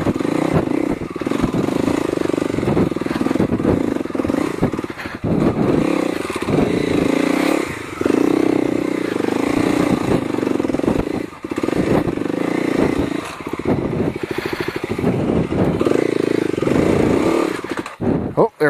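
Dirt motorcycle engine climbing a rough trail incline, a loud continuous rev that rises and dips with throttle over most of the ride, with a rider's voice breaking in at moments over the engine.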